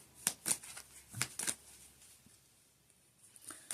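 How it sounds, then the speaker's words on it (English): Tarot cards are shuffled by hand, several quick papery riffles and flutters in short bursts, close and fairly soft, with quiet gaps between them. "We'll split them in half, and then we'll shuffle, and we'll pull one."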